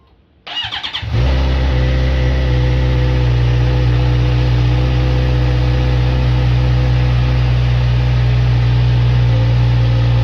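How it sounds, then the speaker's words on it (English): A 2019 Suzuki GSX-R600 motorcycle engine cranks briefly, catches, and settles into a loud, steady idle with a low, throbbing rumble that continues close by. "We're going to fire up the engine, see if this thing works."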